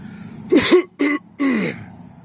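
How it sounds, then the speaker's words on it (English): A person clears their throat in three short, rough bursts, close and distinct with brief pauses between them. "Let me clear my throat."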